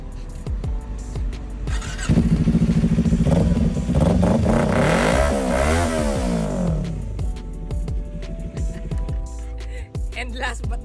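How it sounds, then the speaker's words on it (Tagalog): A Kawasaki Z400 inline-two motorcycle engine sits at idle, then is revved hard in a series of rising and falling blips before settling back to a close, loud idle. "we have here Kawasaki Z400 inline 2"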